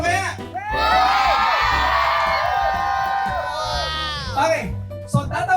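A crowd of contestants at a physical games event shouts, whoops and cheers together in a loud, sustained burst lasting several seconds, with excited voices rising and falling before tapering off.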